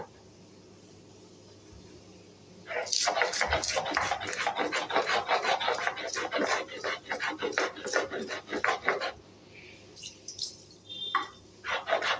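Chillies are ground into paste on a grinding stone, producing rapid, rhythmic rasping strokes that start after a quiet moment and continue close and fairly loud, with a brief pause near the end.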